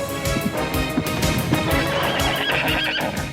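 Messenger horses neigh and whinny loudly over a steady clatter of hooves clip-clopping, with the calls and footfalls overlapping throughout at close range.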